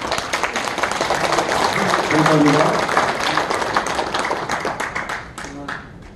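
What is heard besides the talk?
audience applause to approve the proposal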